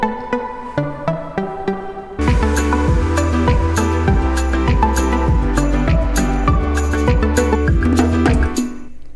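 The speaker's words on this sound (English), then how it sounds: "Now, one layer of the lead was already made with Sylenth 1" A plucky tropical house lead layer made with Sylenth 1 plays rhythmic repeated notes, first thin and sparse, then joined by a heavy pumping beat and bass that drive on steadily before cutting off near the end.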